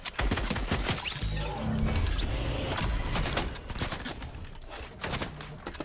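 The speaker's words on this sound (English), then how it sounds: "Where are we getting shot from?" Gunfire in a duo-squad shooter video game, dense bursts of rapid shots and crashing impacts filling the whole stretch, loud and continuous with short gaps.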